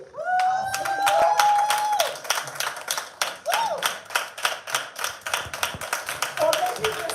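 An audience at an International Women's Day event claps in a steady, rhythmic round of applause, sharp and close, with a sustained tonal voice or cheer rising over it at the start.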